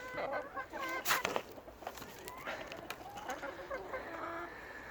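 A flock of hens with one cockerel clucking in a farm pen, scattered soft clucks and short calls near and far, fairly faint, with a few sharp clatters among them.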